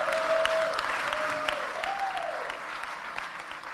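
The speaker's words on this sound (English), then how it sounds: "Round of applause." Audience applause fills a conference hall at a Bitcoin event, steady dense clapping from a large crowd lasting the whole stretch, loud and near, with no talk over it.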